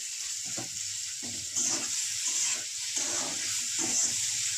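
Onions frying in a pan with salt added, a continuous hissing sizzle broken by rhythmic scraping stirs of a spatula, close and steady, no voices.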